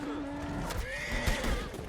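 In the Western game Red Dead Online, a horse lets out a loud, wavering neigh amid gunfight chaos, with hoof clops and thumps underneath and someone talking over it.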